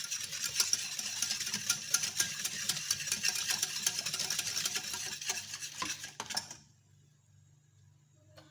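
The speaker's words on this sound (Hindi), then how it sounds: "इसको अच्छी तरह पहले मैं मिक्स कर लूँगी।" Custard and sugar mixture being stirred in a bowl for a banana dessert, a steady scraping swish of spoon against the bowl repeating briskly for about six seconds before stopping into near silence.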